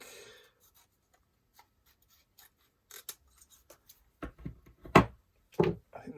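Small scissors cutting paper for an art journal collage, a few soft rustles followed by a handful of crisp snipping and scraping strokes, close and fairly quiet, no speech.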